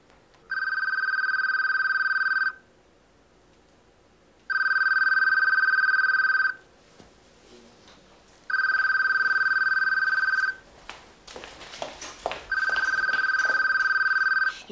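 A telephone rings in four long bursts of electronic bell tone, each about two seconds with pauses between, close and loud, with faint movement and noise in the gaps and no talk.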